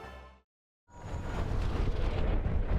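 A base blows up in a Final Fantasy XIV cutscene: after a brief tonal sound and a moment of silence, a deep rumbling explosion swells and keeps roaring, loud and dense, to the end.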